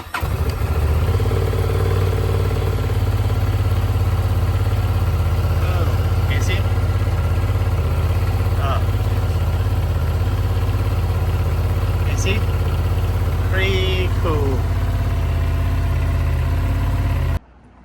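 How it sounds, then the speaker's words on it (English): Honda Transalp motorcycle engine running at a steady idle close by, a continuous low rumble throughout with a few faint clicks and a voice speaking over it. "I'm gonna turn on the engine"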